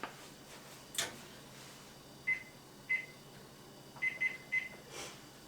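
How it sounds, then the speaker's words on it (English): A kitchen timer is set for cookies baking at 350 degrees, giving faint short beeps, single and in quick pairs, spaced across a quiet kitchen. "Set my timer for about 18 minutes."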